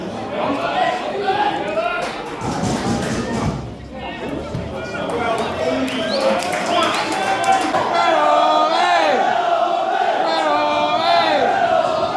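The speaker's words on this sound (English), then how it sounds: "In the second half it was Stourbridge who looked more lively, with the crowd getting behind them." A crowd at a West Midlands derby football match roars and chants behind Stourbridge, a loud, continuous wash of cheering with a commentator's voice over it.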